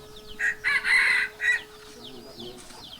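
Chicken crowing in several loud, close bursts, followed by softer clucks and chirpy calls in a quiet outdoor setting.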